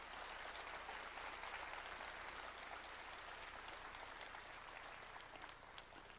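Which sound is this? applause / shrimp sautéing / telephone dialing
applause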